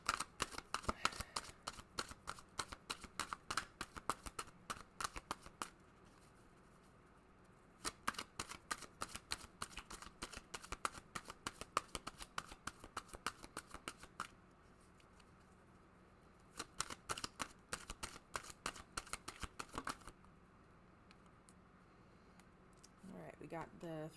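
Tarot cards being shuffled by hand in repeated crisp riffling bursts, several separate rounds of rapid flutter with brief quiet gaps between them, close and clear, with a voice talking at times.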